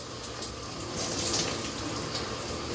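Shower water runs steadily over hair, a continuous close hiss and splash with slight surges, no talking.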